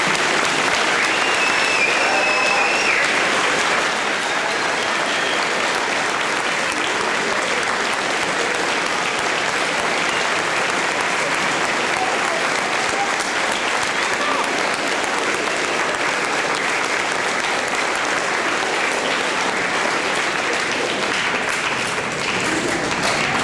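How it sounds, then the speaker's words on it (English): Sustained audience applause at a Veterans Day celebration at Fort Gratiot, honoring veterans; dense, steady clapping from a large crowd fills the whole stretch at an even, loud level. "Let's give a round of applause to all of our veterans."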